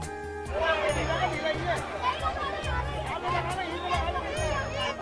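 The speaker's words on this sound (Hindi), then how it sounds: "अब यहाँ पे भीड़ भी बढ़ती जा रही है।" A growing crowd murmurs at Triveni Ghat on the Ganges in Rishikesh, a steady babble of many voices close by with a continuous low hum beneath.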